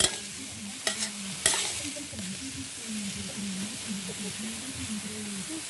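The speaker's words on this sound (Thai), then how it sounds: "กำลังผัดกุ้งนะคะผัดกุ้งใส่เห็ด" Shrimp and mushrooms stir-fried in oil in a pan: a steady sizzle runs throughout, with a few sharp scraping strokes of the stirring utensil near the start and a low murmur beneath.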